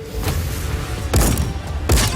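Repeated heavy booms of cannon fire in Just Cause 4, three blasts spaced about a second apart over a constant rumbling battle background.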